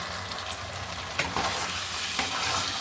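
Chicken pieces sautéing in a pan for an Indian potato chicken curry, a steady sizzle with scraping stir strokes near 1.2 and 2.4 seconds, close and continuous throughout with no talk.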